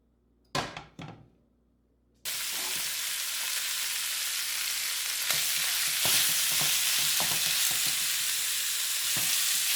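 Beef dropped into hot cooking oil in a pan for browning: after a couple of quiet knocks, a sudden loud, close sizzle bursts in and holds steady, with occasional spatters and scrapes on top.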